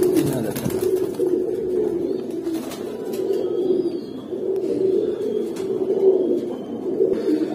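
Pigeons at a Bangladeshi pigeon farm selling High Flyer birds coo continuously in a low, throaty chorus, several birds overlapping close by with faint chirps and farm background behind.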